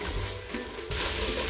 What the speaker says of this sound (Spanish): Y removiendo constantemente vamos a dejar cocer.